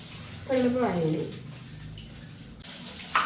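Chopped vegetables rinsed under running water in a kitchen: a soft, continuous splashing and trickle nearby, with a brief voice-like tone near the start.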